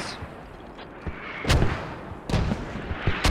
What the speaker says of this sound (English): Mortars still causing a lot of devastation from Mumblerines guys directly on Hemp Farm.